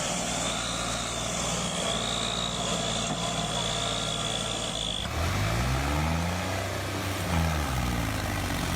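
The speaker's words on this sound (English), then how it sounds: "we've got one tractor pulling another tractor, pulling the trailer behind it" A tractor engine straining hard as it pulls a second tractor and an overloaded trailer, a loud continuous drone whose pitch sweeps and shifts midway as the load and revs change.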